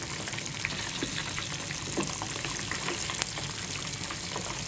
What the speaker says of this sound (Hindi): अब इसमें स्टिक्स जो है वो डालेंगे और इन्हें फ्राई करेंगे